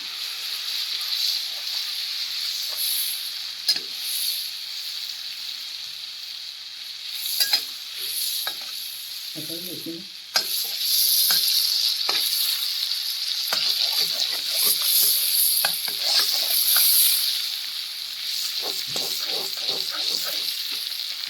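Butter melting and sizzling in a pan as it is stirred, ahead of adding Dairy Milk chocolate; a steady hiss of frying runs throughout, broken by soft scraping and clinking of the spoon.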